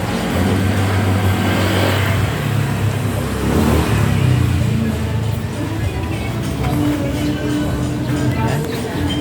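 Motorized tricycle idling and revving in a waiting queue in Rosario, Cavite: a steady mid-pitched engine drone swelling briefly around the middle, continuous throughout with people talking over it.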